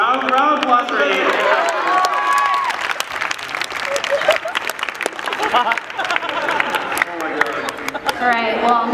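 An audience at the Mr. KSA 2012 Q&A applauds for a contestant named Ian, a steady, dense wash of clapping with some cheering and voices mixed in, running loud throughout.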